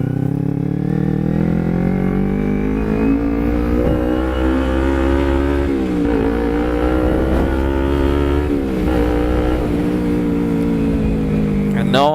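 A 250cc motorcycle fitted with a loud aftermarket exhaust drones steadily at a constant rev while being ridden at night, its harmonic engine note holding up close throughout with slight shifts as the throttle changes.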